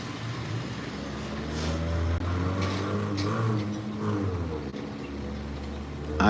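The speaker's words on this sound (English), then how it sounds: "I hear a nice car engine there." A little black car's engine hums low and steady for several seconds at moderate volume, with a short dip and a swell near the end.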